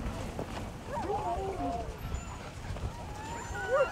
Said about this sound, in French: vous avez plein de chiens de traîneau